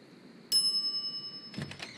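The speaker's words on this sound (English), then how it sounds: "some idiot's already ringing that stupid bell" A shop counter bell in the Monkey Island video game gives one bright, clear ding that rings on with a sustained tone, followed by a short soft clatter, quiet overall.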